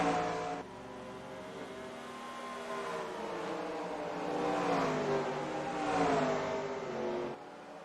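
Stock cars roaring around Bristol's short track at night in a racing sim, a sustained loud engine drone with rising and falling revs as cars sweep past, cutting off abruptly near the end.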